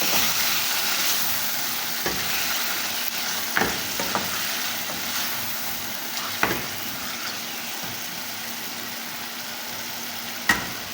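Potatoes and cauliflower hiss and sizzle steadily in hot oil after a splash of water goes into the pan, with a few sharp clacks of stirring rising above the constant frying.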